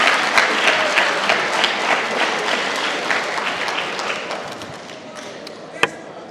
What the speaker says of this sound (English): you guys give an applause for Randy Reynolds